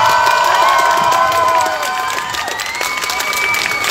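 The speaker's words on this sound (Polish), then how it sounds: "Brawa!" Crowd at a cosplay contest during a fantasy convention cheers and claps loudly, with whistles and shouts over sustained applause, all close and filling the room.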